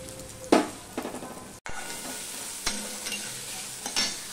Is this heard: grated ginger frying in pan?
yes